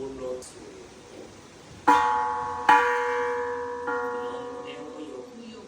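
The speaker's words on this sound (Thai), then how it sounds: "เราก ็สามารถเคาะระฆังได้เลย" Two loud metallic strikes of a temple bell about a second apart, each ringing out with a long shimmering decay, over faint background murmur.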